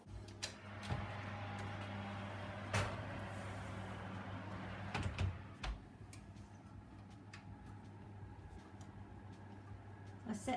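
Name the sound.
oven door as bread pudding goes in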